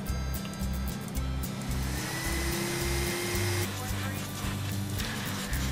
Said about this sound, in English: I'm getting the vacuum